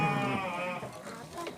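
A single sheep's bleat, a wavering, fairly close call that fades after under a second, followed by faint background noise.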